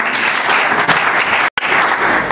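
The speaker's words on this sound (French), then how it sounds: "Les applaudissements pour elle." A crowd applauds panelist Sylvie Malokissa at an event for Congolese entrepreneurs, with loud, steady clapping that cuts out for a moment near the end and then picks up again.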